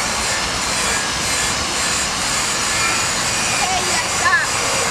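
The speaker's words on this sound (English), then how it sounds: "This is a standard wire wheel for high-speed tools." Wire wheel on a high-speed tool spinning at 3,800 RPM while cleaning rust off a vending machine rack, a steady loud broadband whir and hiss throughout, with faint scratchy grinding near the end.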